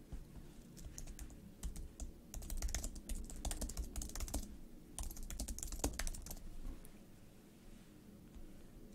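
Rapid typing on a computer keyboard with bursts of clustered key clicks and pauses between them, close and clear over a low steady hum, no voices.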